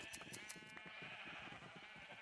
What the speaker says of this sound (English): We have these sheep and we haven't been shearing them.